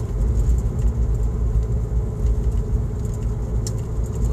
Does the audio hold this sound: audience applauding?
no